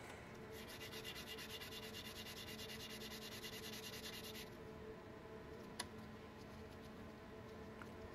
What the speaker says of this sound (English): I lap the back of each screw cap using 220 grit sandpaper.